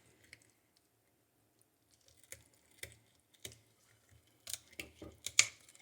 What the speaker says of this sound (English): you take the scissors and cut along the spine to get out the way of those ribs